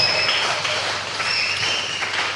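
Steady, dense applause from a church congregation at Righteousness of God Ministry in Lare, fairly loud and continuous, with a faint high ululating tone running above the clapping and no speech.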